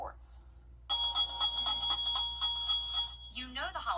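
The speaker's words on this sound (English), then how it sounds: "the sound of a bell ringing as you walk into a store fills the air" A Salvation Army hand bell rings steadily in repeated bright strokes at a store entrance during the holidays, with a voice briefly speaking near the end.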